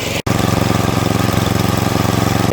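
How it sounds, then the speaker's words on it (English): Snowblower engine idling at low throttle runs close and loud with a steady, rapid pulsing chug, briefly dipping near the start before carrying on evenly. "I could never run it this low of a throttle before."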